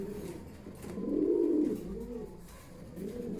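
Homer pigeons cooing softly in a loft, low throaty coos rising and falling in rolling phrases with a swell in the middle, moderately near and alone without talk.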